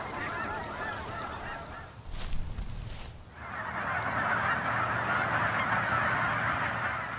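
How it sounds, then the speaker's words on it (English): Migratory geese honk in flight, a dense chorus of calls that fades briefly amid a soft rush of wind, then returns loud and sustained. "migratory birds flew in a V formation, signaling the coming of a new winter."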